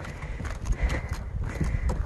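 Horses walking along a trail, hooves clip-clopping in an irregular rhythm close by over a rumbling outdoor background.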